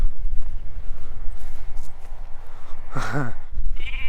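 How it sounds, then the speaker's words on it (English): A single sheep bleats once in a field on Bredon Hill, a wavering call standing out over steady outdoor wind noise, with a faint higher sound just after. "Just in front of me is a field full of sheep."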